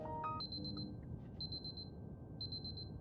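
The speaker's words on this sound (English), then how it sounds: "the door only opens when you turn off the alarm" An alarm clock in the video game Superliminal rings in three short bursts of rapid high beeping, each a quick cluster of chirps separated by pauses, clear and alone over a low hum.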